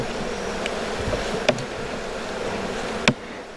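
Stingless bees buzz steadily around an opened hive while the combs are handled, a continuous close insect drone with a few brief knocks and clicks from the handling.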